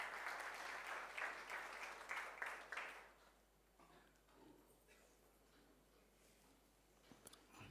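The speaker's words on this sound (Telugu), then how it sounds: "అదేవిధంగా పాస్టర్ గారిని చప్పట్లతో ఆహ్వానించుకుందాం." Church congregation applauding to welcome the pastor at a Telugu communion service, a busy burst of clapping lasting about three seconds before fading into quiet room tone with a few stray clicks.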